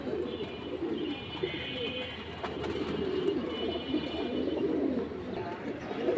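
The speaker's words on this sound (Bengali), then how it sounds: "রাব্বানি লাইন, রাব্বানি কবুতর।" Rabbani pigeons cooing close by in soft, repeated throaty coos over a constant background hum, with faint chirps mixed in and no clear speech.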